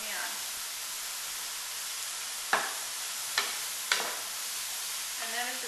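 Stir fry sizzles steadily in a pan with a broad hiss, broken by three sharp scraping stirs of the utensil against the pan midway through; no one talks.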